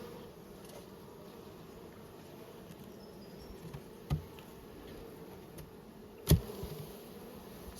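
Honey bees humming around an open queenless hive during a beekeeping inspection, a steady low drone throughout with a couple of brief sharp knocks, no one speaking.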